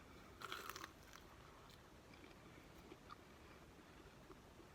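Crunchy Thai fried dough (patongko), eaten cold, is bitten with a crisp crackling crunch, then chewed with softer intermittent crunches; close and fairly quiet.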